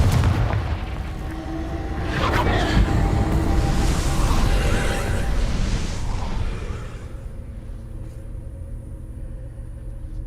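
Explosive spell blasts in Hogwarts Legacy, a deep booming roar with rumbling debris that swells loudly for several seconds, then fades into a quieter low hum.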